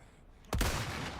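A single sharp gunshot lands a headshot in Resident Evil 4, with an abrupt loud crack followed by a short ringing tail after a quiet moment.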